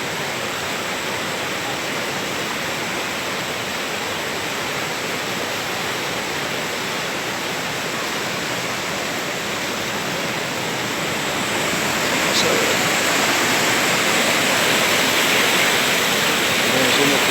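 Loud, steady roar of the rushing Cunquins River swollen by rainy-season weather, broadband and continuous, swelling slightly louder toward the end.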